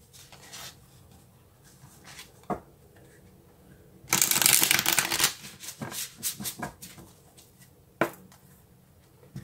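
A deck of tarot cards is shuffled by hand, with a loud, dense riffle lasting about a second, scattered card slaps and soft handling taps around it, and one sharp snap near the end, all close and without talk.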